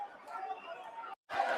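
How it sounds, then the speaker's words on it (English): A Sydney crowd at a wrestling show murmurs and chatters, a steady babble of many voices that cuts out briefly before resuming. "Sydney crowd."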